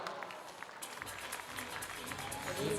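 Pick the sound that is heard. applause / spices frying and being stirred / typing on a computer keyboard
applause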